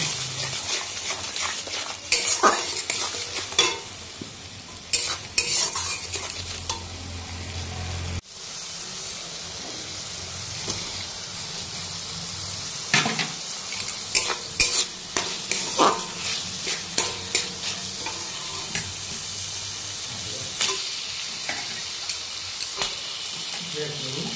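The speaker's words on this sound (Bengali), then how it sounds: "তারপরে যে মশলাটা ভালো করে কষানো হয়ে যাবে তখন লোটে মাছগুলো দিয়ে দেব।" Spice paste being stirred and fried in a pan while cooking a lote fish recipe with potatoes in a village kitchen, a steady sizzle under repeated scraping and clinking from the utensil, with someone talking over it.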